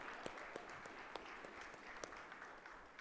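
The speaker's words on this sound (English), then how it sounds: "A title so long, they clapped halfway through." A conference audience at a Columbus Metropolitan Club panel applauds during a panelist's introduction; the clapping is faint, steady and distant, with a few sharper individual claps standing out.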